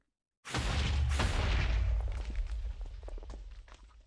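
A Wither boss in Minecraft fires shots: a sudden loud booming blast, followed by a series of fading rumbling impacts and crackles, no talk.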